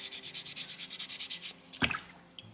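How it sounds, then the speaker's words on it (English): Sandpaper rubs rhythmically over a soapstone owl carving in quick, even back-and-forth strokes, close and clear, then stops and gives way to a few wet knocks and drips from rinsing. "I'm going to keep on sanding until those little gray stripes are gone."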